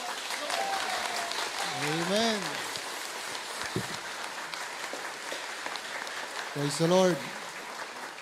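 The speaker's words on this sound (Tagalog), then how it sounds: "palakpak" A church congregation applauds throughout, a broad steady patter of clapping at moderate level, while voices speak and respond over it at intervals.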